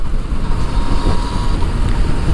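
A 2018 Yamaha MT-09 naked motorcycle with a three-cylinder crossplane engine pulls forward under light acceleration, its loud, dense drone mixing with heavy wind rush and road noise throughout.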